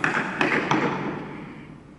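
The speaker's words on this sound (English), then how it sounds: "They have to take the desks apart one at a time." Wooden parliament desks with drawers being dismantled during demolition of the old Parliament House in Samoa: three quick knocking taps in the first second, then a fading ringing decay, close and fairly loud.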